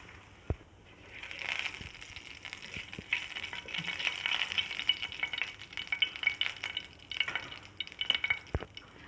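Cumin seeds crackle and sizzle in hot oil, a steady frying hiss with small pops, while a utensil occasionally taps and stirs the pan.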